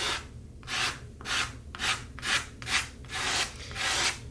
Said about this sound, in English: I'm going to do the same thing with my key card. scrape the paint on.